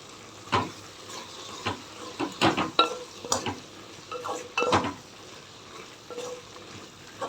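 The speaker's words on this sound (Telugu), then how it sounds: "కారము పులుపు మసాలా అంతా సాంబార్ పౌడర్ ఇప్పుడు కలిపేస్తాను బాగా" A spoon stirs eggplant dal sambar with sambar powder, chili and spices in a pot, scraping and clinking against the metal in irregular bursts with faint simmering beneath.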